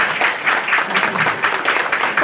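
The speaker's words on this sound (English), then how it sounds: "you can clap for them" Audience clapping for a family that has just converted to Islam on a Ramadan night, a steady dense patter of many hands through the whole stretch, fairly loud and close, with faint voices mixed underneath.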